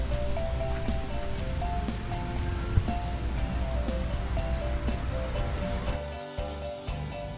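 Waves washing onto a wide beach at Bungus, Teluk Kabung, West Sumatra, a steady broad surf roar that stays loud throughout, with a brief dip and a few soft knocks near the end.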